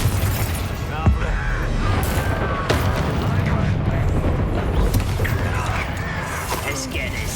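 Confringo fire spells explode repeatedly in Hogwarts Legacy, with dense crackling, rumbling blasts and sharp bursts over a constant roar of combat noise, while a voice speaks partway through.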